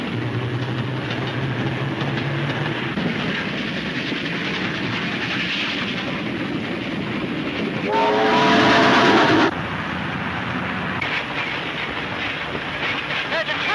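Train clatter rumbling steadily alongside a caboose in an old radio drama, a continuous loud roar with a brief surge of squealing, whistle-like tones in the middle.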